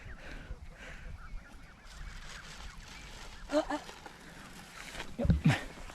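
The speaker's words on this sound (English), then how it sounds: "that's what happens when you start feeding the geese and the ducks down there" Geese being fed at a lake honk a few times in bursts, louder toward the end, with people talking and outdoor background noise throughout.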